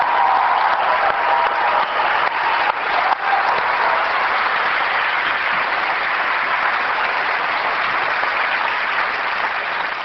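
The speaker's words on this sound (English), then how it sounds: "I'd just like them to stand up for all this amazing work and take a round of applause." Sustained applause from a large audience at a 1999 corporate event, steady and loud across the whole stretch, with no speech over it.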